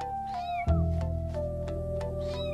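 Young domestic kittens meowing while playing, several high, short meows and a louder cry, close by over a low steady background hum, with no talking.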